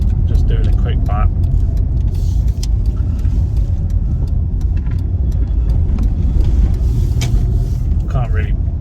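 A MK5 Ford Escort with a newly fitted exhaust drives a short lap through a built-up area, its engine producing a loud, steady low rumble that is heard from inside the car throughout.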